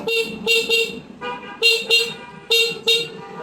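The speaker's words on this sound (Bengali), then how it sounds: "তারপরে আপনার গাড়ির এই যে হর্ন" The horn of a Yamaha RX100 motorcycle in fresh condition honks in a series of short, loud, close beeps with brief gaps between them.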